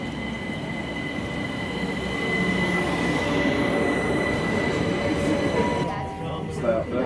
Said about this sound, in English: The train now approaching platform 2 is the 12:02 London Overground service to Stratford